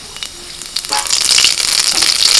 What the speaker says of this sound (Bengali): প্রথমে দিচ্ছি কালো জিরে ফোড়ন